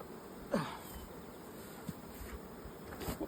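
Soft, continuous buzzing of many honey bees close by at an open hive during an inspection, with a few louder passes as individual insects fly near.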